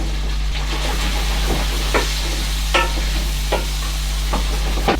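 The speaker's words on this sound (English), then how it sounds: "Now while that bacon is starting to brown and crispen up, just drop in your sprouts." Halved brussels sprouts go into a pan where bacon is browning. A soft sizzle sits under a steady low electrical hum, with several distinct knocks and stirring scrapes spaced across the clip and no talking.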